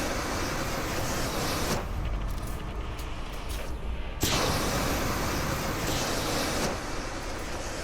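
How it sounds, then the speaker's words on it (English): A train rushes past in Fallout: London as a loud, steady roar of rumbling noise that dips briefly in the middle and then returns just as strong, with no talking. "Yep, that's the train all right."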